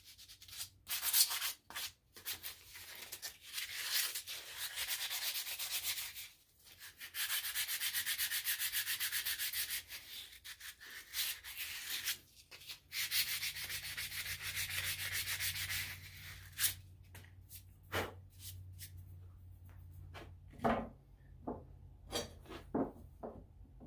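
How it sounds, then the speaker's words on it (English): Steady scratchy rubbing of hand sanding a custom bushcraft knife, long strokes broken by short pauses and light taps, quiet and close. "little tiny bit of hand sanding."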